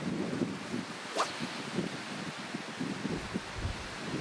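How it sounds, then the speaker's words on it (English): Strong wind blows outdoors during baitcaster casting on a fishing outing, a steady, diffuse rushing noise with soft gusty swells and light rustling that fills the whole stretch at moderate level. "We do have some serious wind trying to pull off to the left here."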